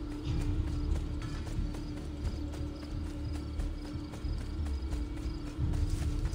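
A horse in the video game Assassin's Creed II trots with steady, rapid clip-clopping hooves, close and continuous over a low background hum, with no talk.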